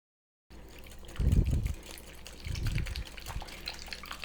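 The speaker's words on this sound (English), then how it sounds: "now I'm going to pour in the milk, and while I do that, I'm going to give it a whisk" Milk is poured into crepe batter while it is whisked, giving soft, quiet liquid splashing and sloshing in two low bursts over a faint background hiss.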